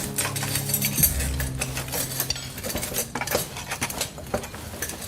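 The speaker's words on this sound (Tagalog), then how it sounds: "Inilapag naman ni Aling Edna ang adobong kangkong at okra sa hapagkainan." Dishes of adobong kangkong and okra set down on a table, with clinks and clatters of plates and cutlery near and fairly loud, over a low steady hum.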